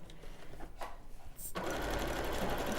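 A sewing machine stitches fabric, its steady fast whirring starting partway through after quiet room sound and continuing loud and unbroken to the end.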